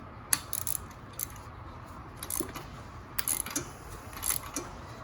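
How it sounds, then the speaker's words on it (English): A Craftsman ratchet tightens a spark plug on a 2001 Yamaha 1100 motorcycle, giving short bursts of clicking at an irregular pace, close and fairly quiet, with no talking. "bust out with the ratchet, which is now"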